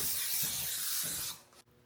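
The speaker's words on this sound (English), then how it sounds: "Casserole dish. Spray it down." Cooking spray hisses steadily from an aerosol can into a casserole dish, a close continuous spray lasting over a second before cutting off.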